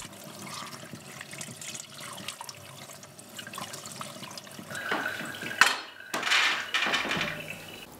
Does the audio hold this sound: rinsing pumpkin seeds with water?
yes